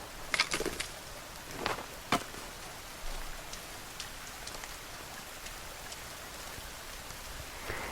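Rain patters steadily in the survival game The Forest 2, a soft continuous hiss broken by a few sharp crackles and taps early on.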